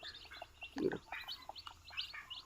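A newly hatched Rhode Island Red chick chirping on a desi poultry farm in Assam, a run of quick high peeps close by with one lower, louder squawk in the middle and no voices.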